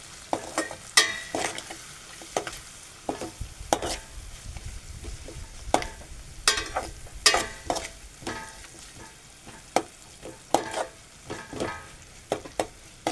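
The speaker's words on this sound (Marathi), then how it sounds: "ढवळून घेऊ." A spatula scraping and stirring Schezwan rice in a hot pan, with irregular sharp clacks and scrapes over a soft sizzle of frying, close and fairly quiet, no talking.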